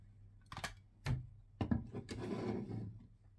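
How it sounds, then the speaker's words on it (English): A small plastic door on a Lego Star Wars Ambush on Ferrix ship is worked open, heard as several faint, close clicks and light plastic scrapes, with a short rubbing sound near the end and quiet in between. "And the back door opens like this as well."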